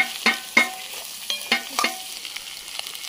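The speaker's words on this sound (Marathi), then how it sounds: "आवाज येता बघ कसो भारी ना कढईचो." Bell peppers and other vegetables stir-fried in a hot wok (kadhai) outdoors, with several loud sharp scraping and tossing strikes over a steady sizzle, spaced irregularly through the clip.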